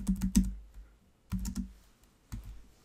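Typing on a computer keyboard while entering text into a text box in Google Docs, heard as three short bursts of key clicks with quiet gaps between them, close and clear with no talking.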